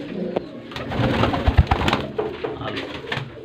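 Pigeons, blue-colored rooftop breeders, coo in soft, repeated low rolling calls, close by, with faint rustling and occasional background voices.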